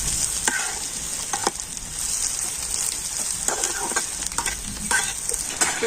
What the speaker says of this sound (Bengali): আবার আমি সমস্ত সবজির সাথে ডিমটা ভেজে নিচ্ছি।